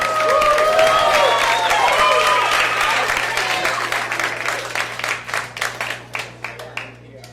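A comedy club audience breaks into loud, dense applause and cheers to welcome a comedian, then the clapping thins into a few scattered, separate claps as it dies down.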